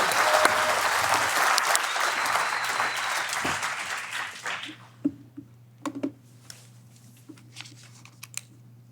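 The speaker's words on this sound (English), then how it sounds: "please, a big round of applause" A design talk audience gives a sustained round of applause that fades out after about four seconds, leaving a few scattered late claps and small clicks in a quiet hall.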